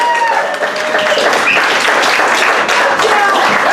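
Dense applause from an audience at a live music club, steady and full throughout, with faint voices and whistles mixed into the clapping.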